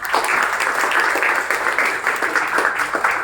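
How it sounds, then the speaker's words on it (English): A team-building group at a youth leadership camp breaks into steady, loud clapping that fills the room and holds evenly for a few seconds. "Clap for her."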